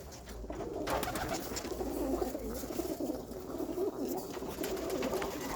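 Pigeons in a kit box coo steadily, soft low rolling calls from several birds close by, with faint rustling and no talk.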